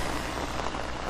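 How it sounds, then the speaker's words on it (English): Steady rain pelting surfaces outdoors near Lake Norman in Mooresville, North Carolina, a dense, even hiss with no pauses, fairly close and unbroken for the whole moment. "You can hear the rain, right?"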